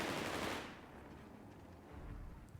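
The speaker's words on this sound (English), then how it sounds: "Good work by the MG34." A German MG34 machine gun fires in Company of Heroes 3. The burst is loud and dense for the first half second, then fades into a low rumbling tail, with faint battle noise behind it.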